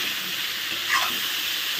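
Cauliflower and potato frying in ghee with garam masala in a pan, a steady dense sizzle with faint stirring scrapes, close and continuous with no talk.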